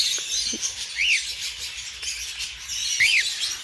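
Two short rising-and-falling whistled chirps from a talking parrot at a bird farm, a couple of seconds apart, close by, over a quiet background with faint clicks.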